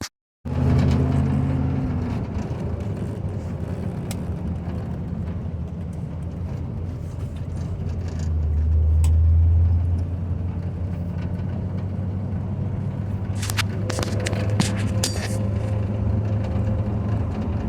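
A car, the SR76, driving a short loop around the block with a faulty speedometer; steady close engine and road rumble throughout, swelling briefly midway, with a few rattling clicks near the end.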